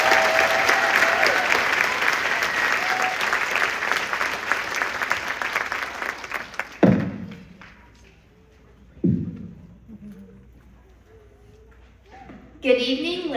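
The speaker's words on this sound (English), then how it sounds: "How about another round of applause for our 8th grade band students?" A school concert audience gives a loud, dense round of applause for 8th grade band students that fades out after about seven seconds, followed by a few thumps and brief speech from the stage.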